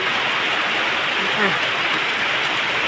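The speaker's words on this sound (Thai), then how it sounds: "วันนี้ฝนตกค่ะ" Steady, dense rain hiss falls on garden plants and drips, out of season, with a faint brief voice-like murmur briefly surfacing in the middle.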